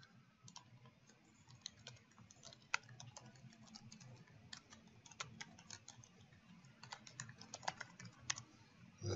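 Computer keyboard typing in a quiet room during 3D scan registration work, soft rapid key clicks in irregular bursts over a low background hum, close and faint.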